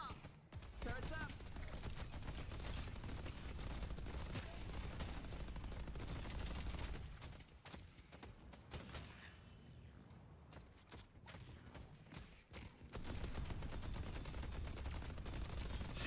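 Deployed turrets in the video game Deadlock rattle off continuous automatic fire, loud and steady, briefly thinning in the middle before the rapid shots resume at full strength.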